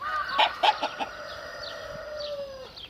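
An Indian breed rooster clucks in a few short, close bursts, followed by a thin drawn-out call fading at the end.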